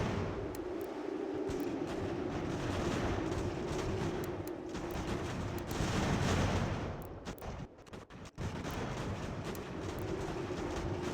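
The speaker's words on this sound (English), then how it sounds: "Who the hell is firing on our guys?" Distant, rumbling musket and artillery fire from a Revolutionary War battle in the strategy game Ultimate General: American Revolution, forming a continuous crackling roar with scattered sharper reports that briefly drop out near the end.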